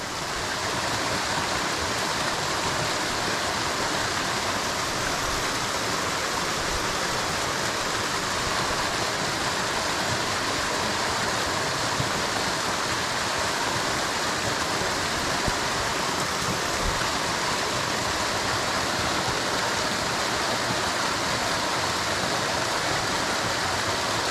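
A small waterfall on a wild trout stream in Pennsylvania rushes steadily and evenly throughout, a dense close splashing wash with no voices.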